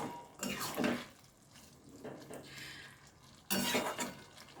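A utensil stirs pumpkin chhokka finished with a little ghee in a pan, giving soft scraping and clinking strokes in a few bursts with quieter pauses between, close and moderately loud.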